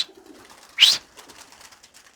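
Pigeons in a loft are close by, with one sharp, loud burst of wing flapping standing out above a quiet background of faint soft cooing and rustling.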